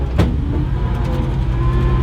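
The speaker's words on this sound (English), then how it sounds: "and I'll pull forward again." Close, steady low rumble of a 1959 Dodge Power Giant Power Wagon truck pulling forward, with a brief bright click near the start and the engine droning evenly throughout.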